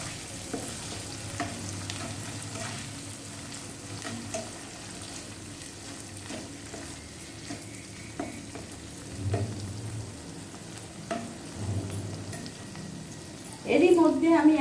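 Chopped tomatoes for suji upma fry in a pan over medium gas, giving a low, steady sizzle with occasional soft stirring scrapes, and a sudden louder burst of noise near the end.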